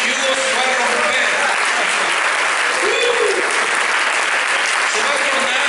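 A large crowd applauds loudly and continuously at a religious service, dense clapping filling the whole stretch with a few voices mixed in.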